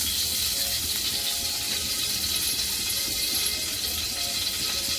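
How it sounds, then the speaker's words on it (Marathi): Fine semolina roasting in hot ghee in a pan over low heat, a steady bright sizzle and crackle that holds evenly throughout, close and fairly loud, with no talk. "तूप गरमच झालेलं आहे त्याच्यात एक वाटी मी रवा टाकला बारीक रवा आहे तो आपण चांगला भाजून घ्यायचा आहे"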